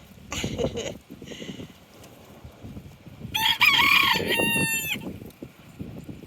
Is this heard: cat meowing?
no